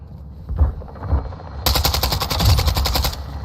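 Rapid automatic gunfire from Call of Duty MW2, a short burst followed by a longer sustained rattle of machine-gun shots, loud and close with no talk.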